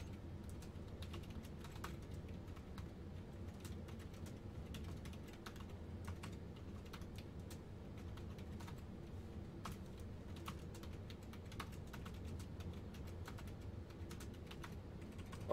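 Steady rapid typing on a computer keyboard during a words-per-minute typing test, a continuous patter of light key clicks heard close up with no talking.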